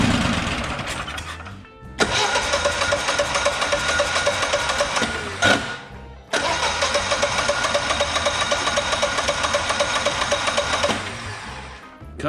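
A Generac XG 10000E generator engine cranking repeatedly as it tries to start, two long loud bursts of rapid mechanical chugging separated by brief pauses, close up with no talking.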